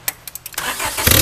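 A Honda car engine cranks and catches on starting, rising to a steady running roar after a few short clicks and thumps, heard close by.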